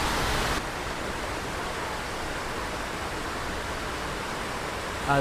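Steady broadband roar of falling water from a waterfall, constant and enveloping with no other sounds standing out.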